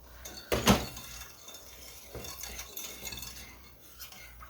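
A milk and sugar mixture, with a third of a cup of whole milk, being stirred in a pot on the stove, opening with one sharp clink of utensil on metal, then quieter scraping strokes; no voices.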